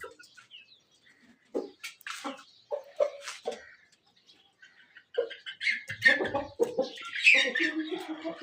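Pigeons and chicks calling from an opened bag, scattered chirps and short coos near and moderately loud, growing busier toward the end.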